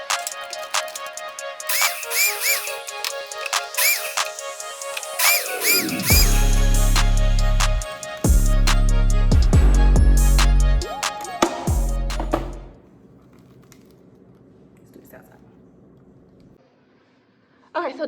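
A kitchen blender crushes cocoa bar ingredients in three loud, close motor bursts with brief pauses between them, after tonal sounds and a voice, then fades to near silence.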